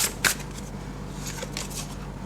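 A tarot card is drawn from the deck during a candle wax reading, producing a short papery swish and snap at the start followed by faint card rustling over a steady low hum.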